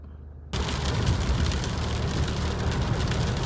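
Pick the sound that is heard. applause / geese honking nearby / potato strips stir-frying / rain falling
rain falling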